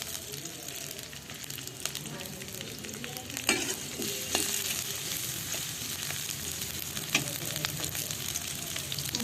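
Onions frying in oil in a pan for a home-style curry, giving a steady, moderately quiet crackling sizzle with a few louder bursts and light stirring clatter, close and continuous.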